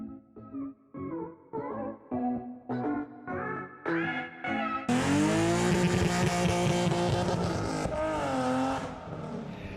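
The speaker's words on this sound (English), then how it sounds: "The car runs, the car does burnouts." A BMW E36 engine blips in short revs, then roars into a sustained high rev with squealing tires during a burnout, loud and close.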